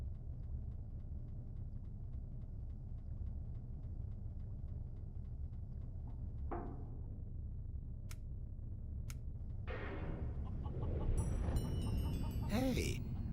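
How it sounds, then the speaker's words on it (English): A rooster kept aboard a spacecraft gives a few short, faint clucks and squawks late on, over a constant low rumble of cabin hum, with light ticking in the background. "here's the rooster I smuggled on board."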